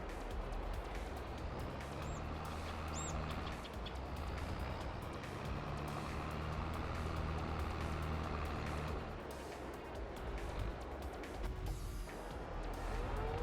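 Steady, continuous engine drone of a tractor driving around a farm in Farming Simulator 22, a loud broadband rumble with low hum holding level throughout, a couple of faint high chirps early on.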